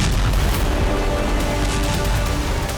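Continuous heavy booming roar of AASM Hammer guided bomb strikes on Russian positions in Kursk, dense rumbling blasts sustained loud throughout with no pauses or voices.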